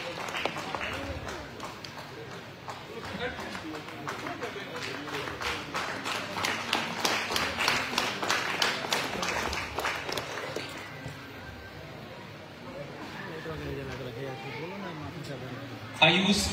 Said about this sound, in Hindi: जोरदार तालियों के साथ अभिनंदन करें अनु कुमारी का।